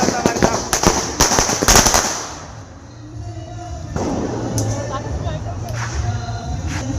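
Several sharp firecracker bangs go off in quick succession during early-morning Diwali celebrations, then a quieter pause before more scattered pops and crackling, with people's voices around.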